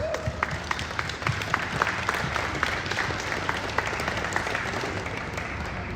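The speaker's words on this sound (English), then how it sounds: "Give them a round of applause, folks." A crowd applauds steadily for several seconds, dense clapping from many hands filling the room at moderate volume.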